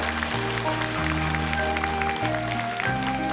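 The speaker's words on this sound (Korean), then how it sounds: "여러분 박수를 부탁하겠습니다." Audience applause fills a hall at a Children's Day celebration honoring an elderly children's songwriter, steady clapping mixed under loud band music that shifts chords throughout.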